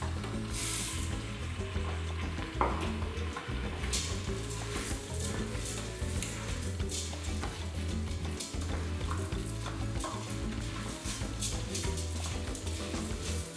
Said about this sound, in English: And then just stir that up for a minute.